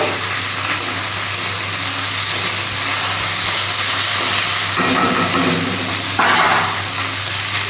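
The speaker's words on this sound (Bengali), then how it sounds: "এই ফোড়নের তেলেতে আমি ঢ্যাঁড়সটাকেও ভেজে নেব।" Okra frying in tempered oil with onion, a steady close hiss and sizzle with stirring bursts toward the end, no talk.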